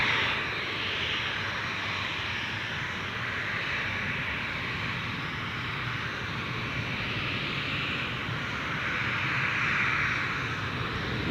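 An airplane arriving at Gold Coast Airport rumbles steadily throughout, a broad engine roar that stays loud and swells slightly near the end, with no talk over it.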